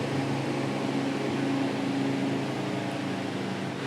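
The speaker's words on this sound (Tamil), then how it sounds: "ஸோ இந்த ஃபேன் ஓடும்போது கொஞ்சமாக சத்தம் வருது." A 12V solar-powered DC table fan running with a steady, even hum and a soft airy whir, continuous and fairly faint, with no talking.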